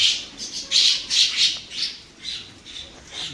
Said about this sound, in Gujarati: થોડી સેવ આ બાજુ નાખી છે તો કેટલી બધી કાબરો આવે છે